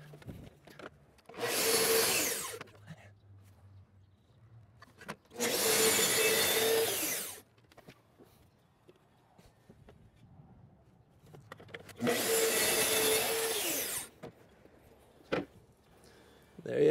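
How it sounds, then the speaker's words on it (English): A power saw makes three separate shallow bevel cuts into wooden deck board, each a loud rasping whine of one to two seconds, with quiet gaps and faint handling noises between them. "I'm not gonna run my saw very deep, just enough to get onto that bevel there"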